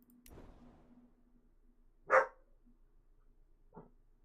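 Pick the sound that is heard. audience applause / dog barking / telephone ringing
dog barking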